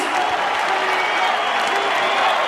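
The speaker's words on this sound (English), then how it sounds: "how about a round of applause for the Huntington Beach bad boy, the people's champ, Tito Ortiz." A UFC arena crowd applauds and cheers at the Forrest Griffin vs Tito Ortiz 2 fight, a steady wash of clapping and crowd noise filling the hall without a break.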